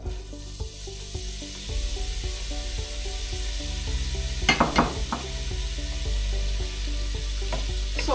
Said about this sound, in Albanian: Dhe këtë me skuqen e kepës.